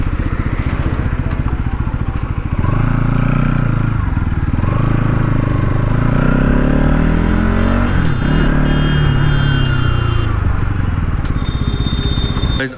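A 2024 Bajaj Pulsar NS 200 motorcycle rides along at speed, its engine droning steadily and rising and falling in pitch as it revs and shifts, with wind rush throughout.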